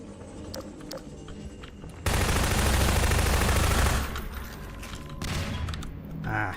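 A pulse rifle in the video game Half-Life 2 lets off a loud, dense burst of rapid automatic fire lasting about two seconds, followed by quieter mechanical clatter and in-game ambience.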